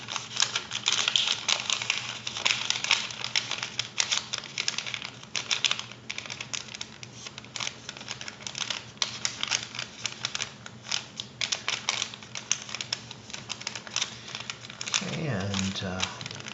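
Paper being reverse folded along an existing crease while making an origami dog kennel, a steady close crinkling and rustling of handled paper that runs throughout, quieter near the end.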